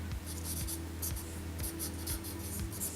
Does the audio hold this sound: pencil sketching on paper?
yes